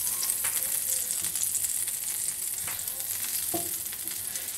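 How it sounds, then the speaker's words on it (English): A steady, bright sizzle of clarified butter melting in a hot pan, crackling continuously with a few small pops and light scraping. "So we're going to give this just a minute for the butter to melt."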